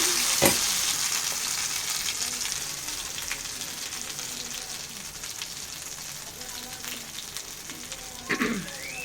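Pea paste fries in hot oil with a dense, steady sizzle, occasional clicks and scrapes of a spoon, and a brief voice-like sound near the end.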